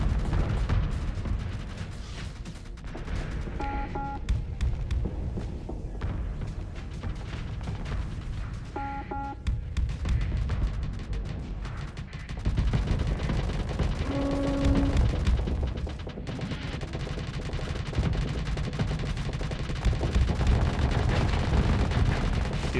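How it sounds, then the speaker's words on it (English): Laser turrets fire in a crossfire during a video game, producing dense, continuous rapid bursts and mechanical clatter, with a few distinct tonal blips standing out over the barrage. "Look at that laser crossfire."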